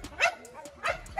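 An American Bully pitbull barks in a kennel yard, giving two loud, close barks with brief yips between them.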